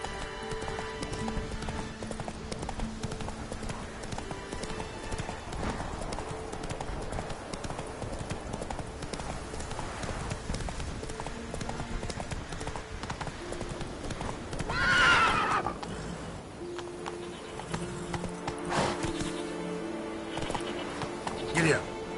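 Hooves clip-clop steadily as a horse runs in The Witcher 3 game, with a loud whinny rising near the middle, all under background game music and someone talking.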